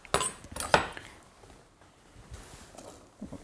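Coconut chopped rustically with a knife for a Thai pumpkin and coconut curry, a few sharp close knife strikes near the start on a board, then quieter kitchen handling.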